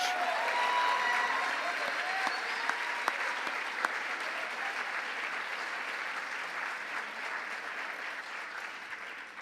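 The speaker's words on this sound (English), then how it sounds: "let's all give a huge round of applause to Moose One, the AmeriCorps team that's helped us set up Connecting for Change" Large audience applauding an AmeriCorps team at a conference session, broad steady clapping filling the hall, loudest at the start and slowly fading, with faint voices and a few scattered sharper claps.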